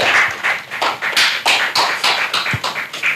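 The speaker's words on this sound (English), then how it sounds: "can we give him a round of applause, please?" A small conference audience claps in sharp, separate hand claps, loud and close, spaced in an uneven patter for a few seconds.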